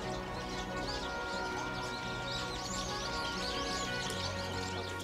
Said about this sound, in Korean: 옆에 보니까 새소리도 아주 많이 나고 있어요.